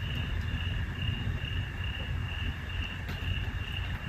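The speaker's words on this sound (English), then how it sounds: "Why is the cricket so loud in that room?" A cricket chirps loudly and continuously inside a room of an abandoned school, a steady high trill over a low background rumble.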